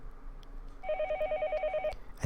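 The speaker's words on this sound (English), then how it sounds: "The phone rang, and I didn't know where the call was coming from." An electronic telephone ring in the video game Higurashi When They Cry: a rapid warbling trill that starts partway in and repeats steadily for about a second over a quiet game background.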